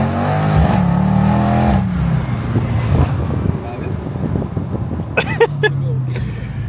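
A Mercedes E63S V8 engine revs hard nearby, a loud rough roar with wind noise over the microphone, dropping into a lower idle burble with brief sharp pops, while people talk over it.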